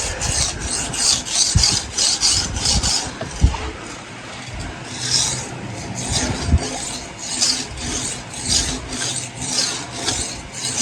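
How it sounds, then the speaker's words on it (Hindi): A knife blade is rubbed back and forth on an Indian sharpening stone under firm hand pressure, making a steady rhythmic rasping with repeated strokes close by for about eleven seconds. "आपको पत्थर पे दिखाता हूँ रगड़ के दूसरी साइड पे"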